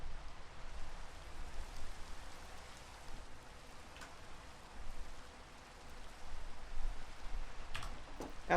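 Steady rain patters on a surface, a soft continuous hiss with faint scattered drips, no voices.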